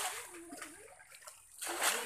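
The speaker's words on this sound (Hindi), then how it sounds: "आप देख सकते हैं पानी कैसे बकेट से निकल रहे हैं।" Water sloshes and splashes out of a bucket during traditional village fish catching, a close, wet splatter that swells again near the end.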